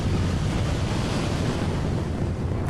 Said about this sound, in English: tidal wave. A wall of water stretching from horizon to horizon.